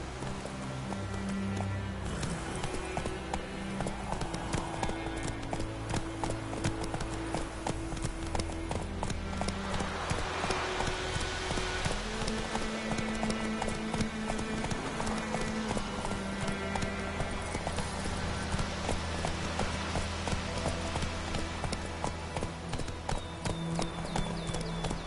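Galloping horse hooves clip-clopping in a steady, continuous rhythm in The Witcher 3 video game, heard up close alongside a constant bed of orchestral game music.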